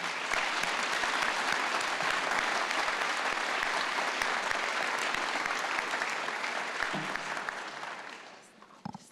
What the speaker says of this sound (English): Let's have a round of applause for this remarkable music we've been making.